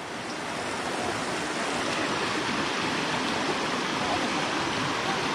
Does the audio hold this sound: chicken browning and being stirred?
no